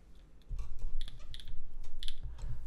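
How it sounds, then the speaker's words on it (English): Clacky keystrokes on a custom Keycult 2/65 mechanical keyboard with Cerakote finish tap in irregular bursts close up over a low background hum, with no talking. "Are you guys ready to hear what the keyboard sounds like now?"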